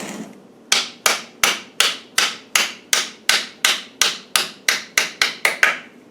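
A hammer tapping a jammed shaft through an LT230 gearbox, about fourteen sharp metallic blows at a steady, slightly quickening rhythm, close and clear with nothing else audible.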